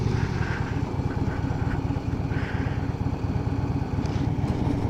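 A 2015 Harley-Davidson Road Glide Special idles close by, its V-twin thumping in a steady loping rhythm, loud and continuous without speech.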